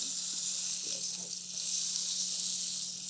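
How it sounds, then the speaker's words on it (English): Pork loin sears in hot oil in a pan, giving a steady, close sizzle and hiss that runs unbroken throughout with no talking over it. "you're going to sear each side for about a minute or two"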